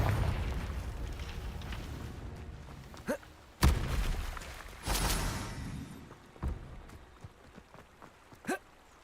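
Blasting spell explosions from Confringo in the wizarding video game Hogwarts Legacy: a few sharp booming impacts spaced seconds apart, with smaller pops and crackles trailing off, over a low rumbling battle ambience.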